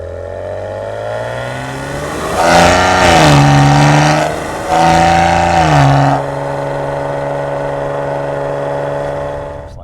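A 2018 Maserati Ghibli S GranSport in sport mode revs twice from a deep idle, each rise a loud, rich howl that climbs and falls back to a steady rumble.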